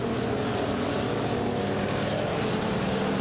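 Dirt-track race cars at Boothill Speedway running wheel to wheel down the front straightaway, producing a loud continuous engine roar that fills the clip without pause.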